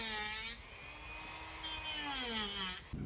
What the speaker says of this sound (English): you don't have to go real deep with this cutting tool